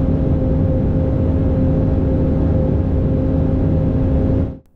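A car races at high speed across the frozen ice of Lake Baikal, a loud sustained engine drone with steady whining tones that holds constant for several seconds, then cuts off abruptly at the end.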